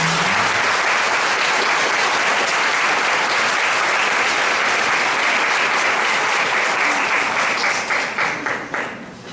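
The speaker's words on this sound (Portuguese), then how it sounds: "Queria pedir uma salva de palmas para a" An audience applauds a guest speaker being introduced at an evening talk. The clapping is dense, loud and steady, then thins and tapers off near the end.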